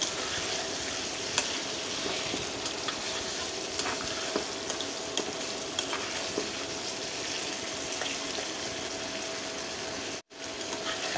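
Potatoes sautéing with spices in a pan for a potato and pangas fish curry, a constant close sizzle with intermittent stirring scrapes and clicks, continuing without talk.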